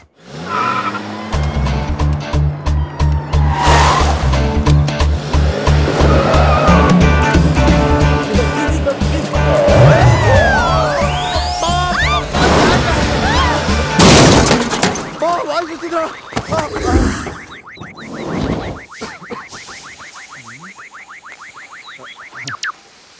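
A car crash in a Telugu comedy film: tires squeal and skid, an engine roars and a loud crunching impact follows, with music and dialogue throughout.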